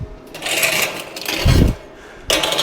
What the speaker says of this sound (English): Just touch off those sides with the grinder and get them kind of flattened out again